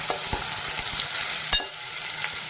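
Ground coriander, turmeric and salt roast in hot oil in a pan for a Maharashtrian eggplant and potato dish, giving a steady close sizzle with a few stirring scrapes and clicks, no talking.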